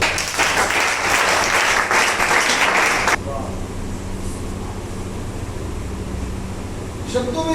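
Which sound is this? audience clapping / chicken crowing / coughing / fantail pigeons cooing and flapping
audience clapping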